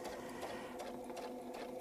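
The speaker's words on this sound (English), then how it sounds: "We're going to stitch across until our foot touches the template and follows the template round." A sewing machine hums steadily up close, stitching a quilt along a template in one continuous run.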